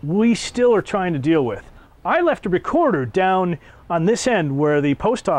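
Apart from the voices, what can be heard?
No distinct noise like a dog, phone or traffic.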